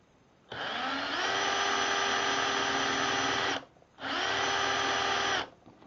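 An 18-volt cordless half-inch variable-speed hammer drill spins without its hammer function in two bursts, a steady high motor whine running about three seconds, stopping briefly, then resuming for roughly another second and a half, close and loud.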